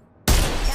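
A burst of video game gunfire erupts suddenly after a brief silence, a loud dense crackle sustained to the end.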